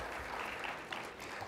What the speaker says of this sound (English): we would like to give a good round of applause for all our participants here